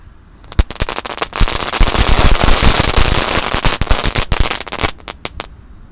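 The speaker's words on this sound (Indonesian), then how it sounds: "ini ada mercon telur dino pretek warna-warni" A colorful dino egg firecracker set off inside a jumbo steamer pot: a rapid string of sharp pops crackles for several seconds, dense and loud in the middle, thinning to scattered bangs at the end.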